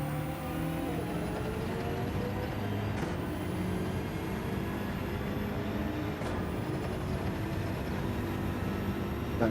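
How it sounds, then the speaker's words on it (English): Gran Turismo 7 race car, likely a Subaru BRZ, engine note during lobby racing, a continuous roar with two brief sharp shifts or blips roughly three seconds apart, steady and moderately loud without talk. "Oh, listen to that going down through the gears."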